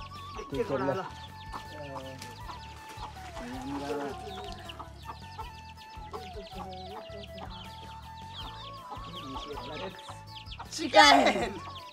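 Chickens cluck on and off at moderate distance, with a sharper squawk near the end, over a low steady background hum.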